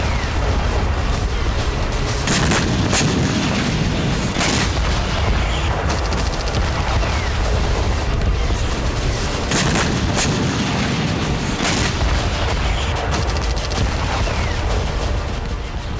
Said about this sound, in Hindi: रशियन नेवी ने दर्जनों की तादाद में जंगी बेड़ों और साइलेंट किलर यानी सबमरीन के जरिए बारूदी कोहराम मचाया है।